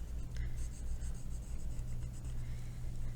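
An orange colored pencil is pressed hard and rubbed back and forth on paper to burnish it, a soft, steady scratchy scrubbing heard close up and quiet against a low background hum.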